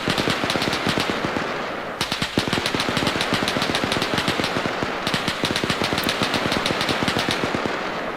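Sustained machine-gun tracer fire in the video game Arma 3: long, rapid, loud bursts of shots in a dense, steady rhythm with brief breaks between strings, no voices.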